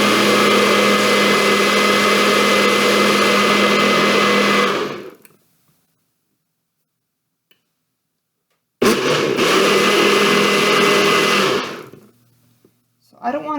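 Blender whirring loudly as it mixes banana creamsicle ingredients, running about five seconds, stopping into silence, then starting again for a second shorter burst before cutting off.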